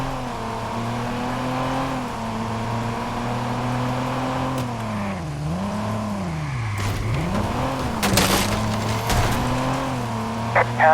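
A car driven in the video game Watch Dogs, engine tone rising and falling as it revs and swerves, with sharp bangs and crashes near the end.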